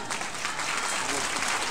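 A brief, steady burst of crowd clapping fills the room at a premiere presentation of the series Galerías Velvet, with faint voices mixed into the applause.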